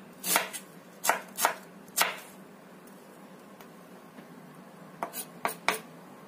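A knife thinly slices shallots on a cutting board for pindang of snakehead fish, with crisp close chops coming in small clusters separated by short pauses.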